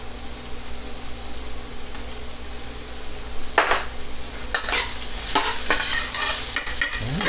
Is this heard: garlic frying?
yes